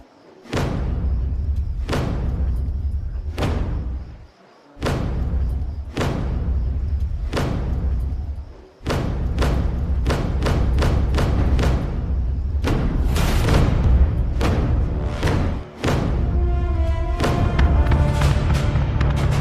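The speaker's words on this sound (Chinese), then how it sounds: "来吧，我们战鼓响了啊！" A war drum is beaten with loud, heavy strikes over and over in a steady rhythm, each one a booming thud, continuing almost without a break.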